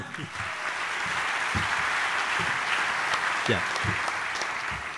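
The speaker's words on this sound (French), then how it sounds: "je vous remercie pour vos applaudissements" A lecture audience applauds steadily throughout, a dense even patter of many hands with a few louder claps standing out, sustained without pause.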